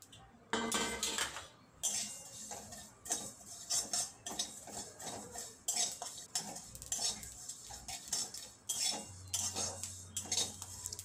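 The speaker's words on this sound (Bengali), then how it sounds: "এবারে বাকি মশলা ভেজে নেব।" Whole spices dry-roast in a pan while a metal spatula repeatedly scrapes and clinks against it, making irregular bursts of rattling and stirring noise over a low background hum.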